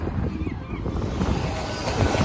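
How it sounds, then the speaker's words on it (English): Steady wind and surf wash at Blackpool beach in the evening, a continuous broadband roar with gusty buffeting against the microphone and no speech. "This is the beach."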